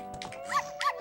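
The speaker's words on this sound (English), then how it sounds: "Enemy dog!" A dog in Majora's Mask gives two quick, close barks over a steady game background hum.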